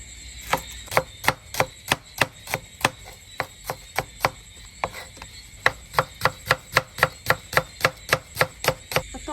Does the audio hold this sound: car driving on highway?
no